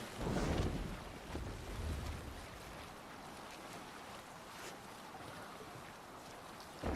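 A Viking longship sails the open sea in Assassin's Creed Valhalla, with steady wind and a rushing wash of waves. A louder gust rises at the start, then the sound settles into a continuous even roar with no voices.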